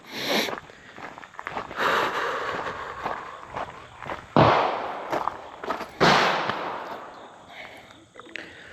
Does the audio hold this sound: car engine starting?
no